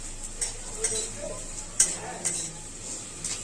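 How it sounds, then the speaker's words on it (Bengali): Potatoes fry in a pan in a home kitchen, with a low, even sizzle and a few sharp scraping clicks as they are stirred, at moderate distance. "মাংসর আলু ভাজা"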